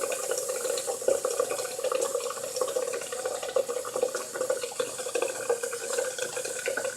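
Warm water runs steadily from a tap to wet a makeup sponge, a continuous close hiss and splash with small fluctuations as the flow hits the sponge and sink.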